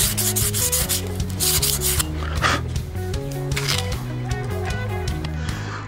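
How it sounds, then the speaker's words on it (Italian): Coarse 120-grit sandpaper is rubbed around the inside of a scooter clutch bell to dull its polished surface, a close, continuous scratchy rasp with a repeating back-and-forth rhythm. "useremo un po' di carta abrasiva di grana numero 120 ed andremo a carteggiare un po' all'interno in modo da opacizzare la parte lucida"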